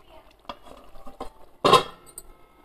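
Pot of cooking vegetables being covered, with a few light clinks of metal followed by one louder clattering clank as the lid settles, then quiet, no talking.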